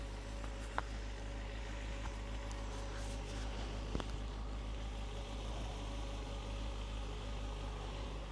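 A Yamaha FZ6S motorcycle with 11,000 km on it idles with a steady, even low hum, faint and constant with no revving, plus a couple of small clicks.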